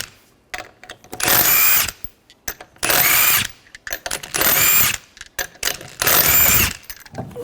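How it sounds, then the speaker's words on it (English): A power tool with a 19mm socket spins lug nuts off a Ford Escape wheel, four loud whirring bursts of roughly a second each, separated by short pauses filled with faint clicks and handling noises. "Remove the lug nuts, use a 19mm socket."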